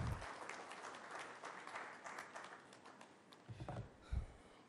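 Faint, steady applause from a seminar audience in a hotel conference hall, a soft continuous patter of many hands with a few low thumps near the end.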